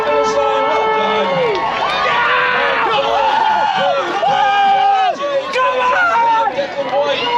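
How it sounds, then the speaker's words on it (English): Loud crowd cheering and shouting at the finish line of the 49th Holyoke St. Patrick's Road Race, a dense continuous roar of voices with whoops and children's yells throughout. "Give a big round of applause"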